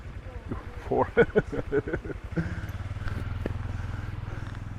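A motor scooter carrying four people rides past at a Rawai fish market, its putter building and steadying into a close, rhythmic engine thrum while someone talks over the first half.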